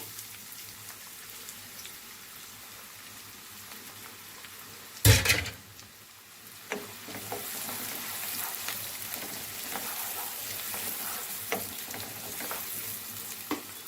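Onions fry in a pan, a soft hiss at first, then a loud burst as they go in and a steady crackling sizzle that keeps going, close up, with no talk.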